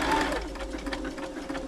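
Brother Super Ace III sewing machine sewing a stretch stitch, a steady close, fast rhythmic whir and patter running without pause through a short stretch.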